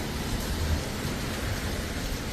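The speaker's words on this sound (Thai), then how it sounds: "ฝนตกหนักเลย" Heavy rain pours down steadily outside a home during a thunderstorm, a dense, continuous wash of noise with no pauses, fairly close and filling the whole moment without any voices.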